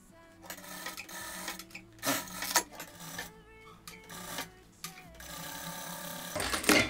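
Sewing machine stitching a fabric strip to finish an edge, bursts of rapid mechanical whirring and clicking that start and stop, close and moderately loud, with pauses of quieter handling.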